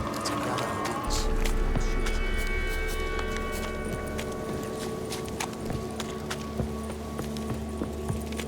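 Horse hooves clip-clop steadily while riding through The Witcher 3: Wild Hunt game world, a continuous trotting rhythm over ambient game sound and music, with no talk.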